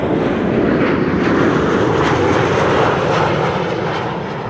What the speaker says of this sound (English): Transavia 737 arriving from Alicante